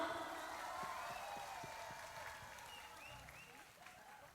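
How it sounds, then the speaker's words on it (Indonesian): Sustained crowd applause at a live outdoor Buddhist dharma song concert, steady and broad, with scattered cheers and a voice or two over the clapping, tapering slightly toward the end. "Kita tepuk tangan untuk kita semua yang keras."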